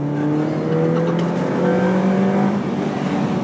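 Honda Jazz (Fit) engine fitted with a custom intake, revving loudly and steadily close by with a throaty drone that rises and shifts in pitch, no talking over it.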